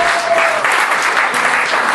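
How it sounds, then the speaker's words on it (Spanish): Church congregation applauding during a service: thick, loud, continuous clapping from many people at close range, filling the whole brief stretch without voices. "Denle un aplauso al Señor."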